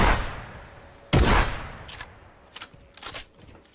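A blue combat shotgun fires in Fortnite with one loud, sharp blast near the middle, followed by a few fainter shots and impacts, with no talking.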